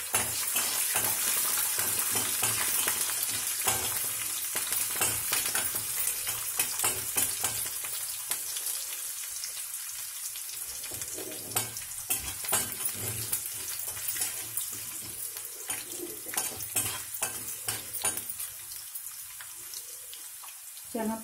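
Tempering spices and green chillies sizzle in hot oil in a pan while upma with broken rice is being made, a continuous close frying hiss with scattered crackles and stirring scrapes, louder at first and easing off later.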